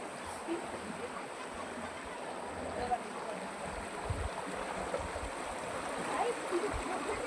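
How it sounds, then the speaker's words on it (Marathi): Flowing river water in a Konkan village makes a steady, soft rushing wash with faint low thumps, moderately distant and continuous throughout. "ही नदी आहे इकडे खाली पण नदी आहे बघा"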